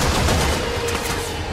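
Rapid gunfire from the video game Warframe, a dense, loud burst of overlapping shots filling the whole short moment without pause.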